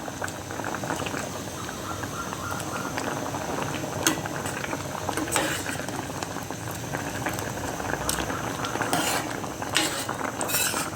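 Coconut milk simmering with taro and sago in a pot, a continuous close bubbling boil with occasional light clinks of a spoon against the pot.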